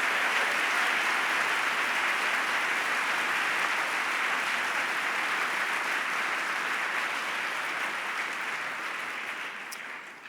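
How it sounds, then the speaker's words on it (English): A large audience at a music publishers' annual meeting gives a sustained round of applause, steady and dense throughout before tapering slightly at the end, with no talking over it. "Please join me in giving Lisa and Lynn a round of applause"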